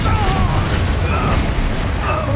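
A Confringo fire-blast spell in the video game Hogwarts Legacy, a muffled booming burst over rumbling combat noise and faint tonal effects.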